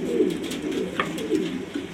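Low, rolling coos from pigeons in a loft, a soft continuous burble with a couple of swelling phrases, close by and without talk.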